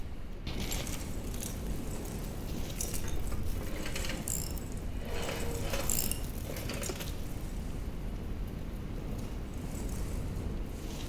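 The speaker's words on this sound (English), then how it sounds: "Now we have to unlock the screws." Screws being unscrewed in the horror game Amnesia: The Bunker, a steady faint ratcheting, mechanical clicking with a few brighter metallic ticks and scrapes, continuous and without talk.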